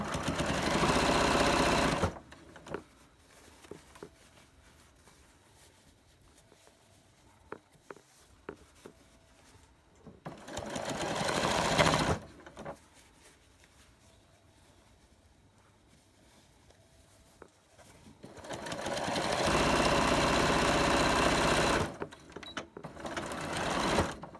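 A sewing machine runs loud and close while topstitching a fabric mask, with three long stitching bursts separated by quieter gaps filled with small clicks and handling noises.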